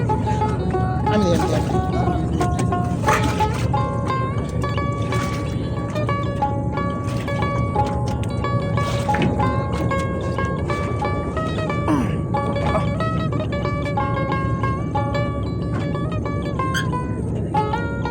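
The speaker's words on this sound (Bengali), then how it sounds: "ট্রলার চলে আসছে, ট্রলারে করে ওই পার নেমে যাব।" A motorized trawler boat crossing a river near Palar Char, Jajira, gives a constant, loud engine drone and water wash for the whole stretch, with a person talking over it.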